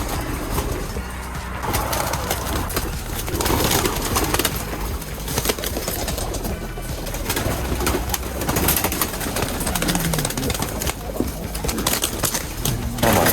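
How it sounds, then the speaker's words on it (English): Wild pigeons cooing and murmuring steadily in a busy, noisy space while being handled and put into a box one by one, with occasional rustling and wing movement close by. "we're gonna open this lid and put birds in one by one"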